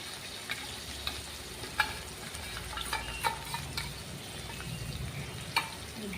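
Masala for a Bengali tangra fish curry sizzling in a pan with potato and tomato as a spoon stirs it, steady crackle with scattered scraping clicks and small bumps, fairly quiet, no talking.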